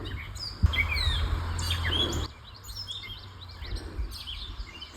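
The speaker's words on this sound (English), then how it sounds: "Such a cool bird." Bird calling outdoors in the Driftless Region during a bikepacking trip: several quick, high chirps and twittering notes repeat through the scene, moderately close over low wind and outdoor rumble, which drops away partway through.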